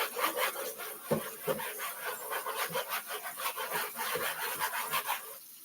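Knife cutting potatoes on a soft, rubbery plastic cutting board, a steady run of close scraping, rasping strokes with dull thumps.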